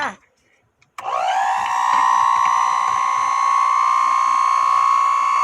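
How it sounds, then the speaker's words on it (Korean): An electric mixer whisks egg whites until foamy, making a loud, steady high whine after a short quiet start, with a faint voice briefly heard at the very beginning. "이렇게 거품이 노릇노릇 날 때까지 저어주세요"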